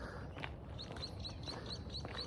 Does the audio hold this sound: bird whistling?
yes